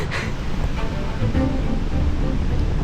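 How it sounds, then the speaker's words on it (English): Steady wind roaring high up in a tree canopy, a continuous broadband rush with gusty swells, loud and close throughout with no other clear sounds. "it's pretty windy up here today"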